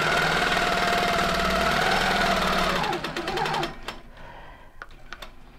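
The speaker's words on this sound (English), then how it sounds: "Then I'm going to go ahead and stitch this one." A sewing machine stitches a quilt along a ruler, a fast steady mechanical whirring hum that is close and loud, then slows into a few separate ticks and clicks as it stops.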